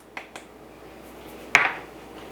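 Gluten-free flour, baking powder and salt are mixed in a bowl for an apricot almond quick bread: a couple of light ticks, then one sharper utensil clink against the bowl, all fairly quiet and close.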